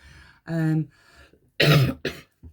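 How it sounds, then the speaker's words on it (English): A few harsh, loud coughs close by: one burst, a pause with a faint breath, then a heavier cough followed by two shorter ones. "I've still got the cold, I've still got this cough."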